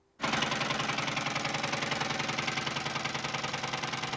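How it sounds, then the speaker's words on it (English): A Ford 4.6 V8 with failed timing chain tensioners starts up abruptly and then runs with a loud, rapid metallic rattle and clatter. The noise is close, steady and evenly rhythmic. "if you drive too long on failed timing chain tensioners, you can end up sounding like my neighbors."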